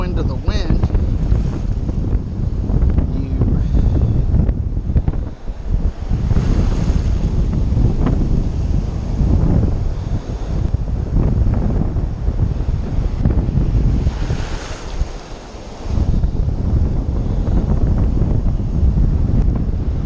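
Strong wind blows steadily across the microphone outdoors during fly casting, a loud continuous rushing roar with gusty surges and one brief lull near the end.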